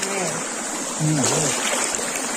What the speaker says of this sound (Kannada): ಈ ಒಂದು ನೀರನ್ನ ತಲೆ ಮೇಲೆ ಹಾಕೊಂಡು ನಮ್ಮ ಪಾಪವನ್ನ ಕಳ್ಕೊಳ್ತಾ ಇದ್ದೀವಿ